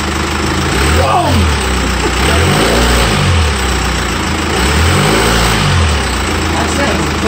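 Jeep Wrangler JK CRD diesel engine, freshly swapped and still on a stand, revving in several rising-and-falling blips over a steady idle rumble, loud and close, with voices talking in the background.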